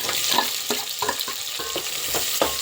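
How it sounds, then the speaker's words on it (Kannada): Onion and dried red chillies fry in a hot pan for a drumstick-leaf saaru, giving a dense crackling sizzle with quick stirring scrapes at a steady pace, close up and without speech. "ಇವಾಗ ಈರುಳ್ಳಿ ಹಾಕ್ತೀನಿ"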